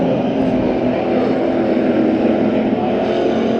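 Race cars roaring off at the start of a heat race at Bakersfield Speedway, a dense, continuous engine drone heard from a distance, steady and moderately loud throughout with no pause.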